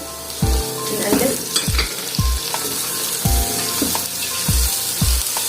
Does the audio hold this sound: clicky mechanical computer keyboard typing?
no